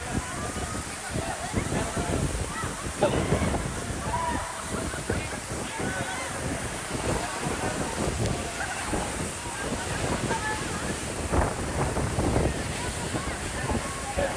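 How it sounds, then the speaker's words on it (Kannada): Strong wind blows at Baba Waterfalls, roaring and buffeting the microphone steadily alongside rushing water, while people talk over it. "ಗಾಳಿ ನೋಡೋ ಬ್ರದರ್"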